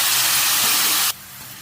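Loud, steady broadband hiss of tomatoes frying in a hot pan with sautéed onions, cutting off abruptly to a much quieter background.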